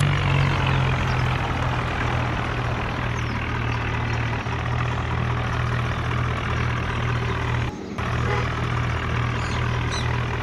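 A tractor engine drones loud and steady nearby as it hauls loaded trolleys up a slope, with one brief dip in the roar partway through.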